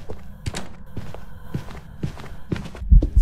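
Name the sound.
ghost footsteps during a hunt in video game Phasmophobia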